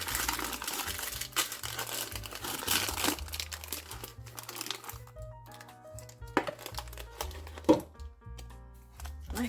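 Plastic lining crinkles and crackles as it is peeled off kuih talam, a Malaysian layered cake, freed from its mould; close, irregular rustling runs over soft background music.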